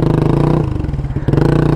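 Motorcycle engine running steadily while the bike crosses water at night, a loud close drone with a brief dip in the middle before it picks up again.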